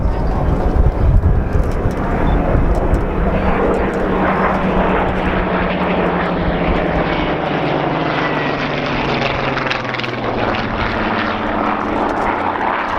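Piston-engined warbirds of the Battle of Britain Memorial Flight, a Spitfire and a Lancaster, drone past at an airshow, a loud continuous roar of propellers and engines with a slowly shifting pitch as they pass.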